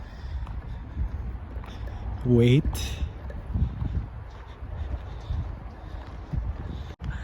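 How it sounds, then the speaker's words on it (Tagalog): Gusty strong wind rumbling against the microphone with heavy low buffeting at Hwaseong Fortress in Suwon, South Korea, while a person briefly speaks over it. "Lakas ng hangin."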